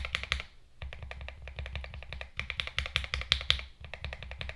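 Fast mechanical keyboard typing on Ink Black switches with Poron pads, a dense run of close, crisp keystrokes with a deeper thock, pausing briefly twice before resuming.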